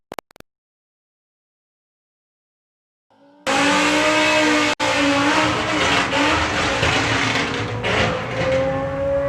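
A drag racing car launches off the start line during qualifying at a national finals meet: after near silence the engine erupts into a loud, close, sustained roar that wavers unevenly and does not sound clean.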